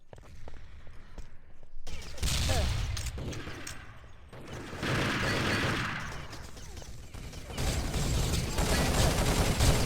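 Heavy automatic gunfire in a competitive tactical shooter match on the Urban Tower map, bomb mode: repeated loud bursts and rattling volleys, some close and some more distant, with short pauses between.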